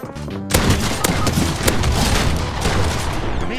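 Heavy gunfire erupts in a Fortnite match, dense rapid bursts and booming shots running continuously after a brief lead-in, loud and close.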